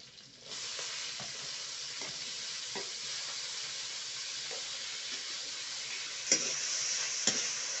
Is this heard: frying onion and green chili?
yes